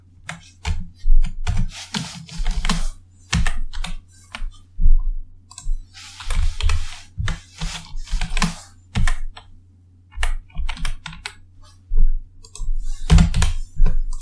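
Computer keyboard typing during a Python programming session comes through as bursts of close, crisp key clicks with short pauses between runs, with no talk over it.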